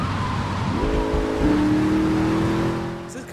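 Limousine engine in GTA Vice City droning steadily, then rising in pitch as it accelerates, a sustained in-game motor hum with a brief shift midway and no talk.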